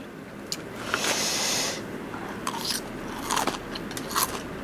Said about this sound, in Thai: พริกทอดกรอบรสไข่เค็มคางกุ้ง